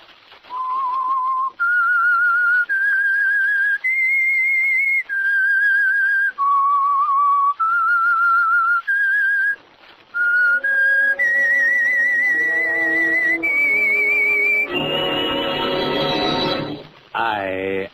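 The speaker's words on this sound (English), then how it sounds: "That whistle is your signal for the Signal Oil Program" A lone whistled melody announces The Whistler radio program, a clear, steady tune of held notes stepping up and down with short pauses, ending in a quick high flourish.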